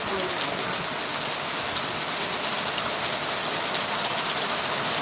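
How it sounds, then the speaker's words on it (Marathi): Steady, loud rain pours down continuously, a dense hiss of drops hitting surfaces with no pause. "दहा ते पंधरा मिनिटापासून सारखा पाऊस चालू आहे ना"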